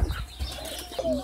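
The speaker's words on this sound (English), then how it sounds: "It's a dove." Pet doves cooing close by, soft low coos with a faint chirp and a brief wing flutter, no voices.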